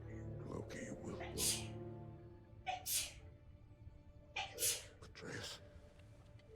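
Someone sneezes sharply a few times in a video game scene, with breathy gasps between bursts and quiet voices around them.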